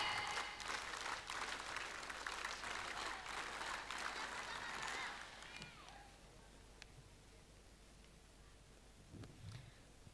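Scouts at a Pramuka camp opening perform a group rhythmic clap, loud crowd clapping for about five seconds that then drops away into a quiet hall with faint scattered sounds and a brief low thump near the end.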